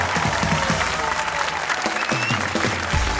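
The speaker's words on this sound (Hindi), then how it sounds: "तालियां बजाओ जल्दी जल्दी" Audience applause in a television comedy talk show studio, loud and continuous, with a voice talking over the clapping.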